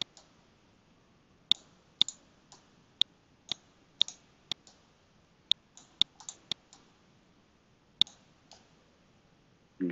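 Computer mouse clicks while working in Maya 3D software, sharp isolated clicks scattered irregularly across the stretch, some in quick pairs, close and fairly quiet against a low room hush.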